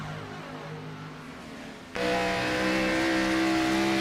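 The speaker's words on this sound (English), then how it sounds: "You can hear the cars jumping around on those cement blocks." NASCAR stock cars roar around Dover's concrete oval, a steady engine drone that jumps suddenly to a loud, close, sustained high-revving blare as the cars pass onboard.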